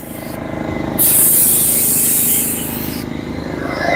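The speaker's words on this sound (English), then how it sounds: "You're gonna overlap your spray pattern 50-50" A spray gun lays clear coat onto a car part, a loud, steady airy hiss that bursts in and holds for about two seconds before cutting off, over a low background hum.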